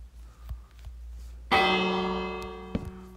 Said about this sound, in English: Bell right here.